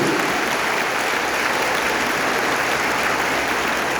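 An audience at an evangelical church culture week event applauds visitors, filling the room with dense, steady clapping that continues loudly throughout.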